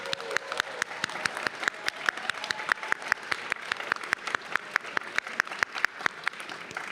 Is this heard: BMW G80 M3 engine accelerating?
no